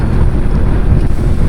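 Steady loud wind buffeting the microphone while riding an Easy Ride 150 motorcycle in the cool mountain air near Sierra Madre, Infanta, Quezon: a continuous low roar with no voices.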